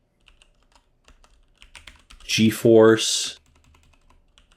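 Faint, scattered keystrokes on a computer keyboard as a terminal command is typed, with a short spoken word breaking in midway.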